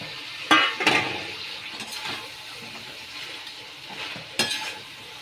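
Fried chicken pieces are tipped into chili sauce in a pan and stirred, giving a few sharp clinks and brief sizzling bursts over a soft, steady background hiss.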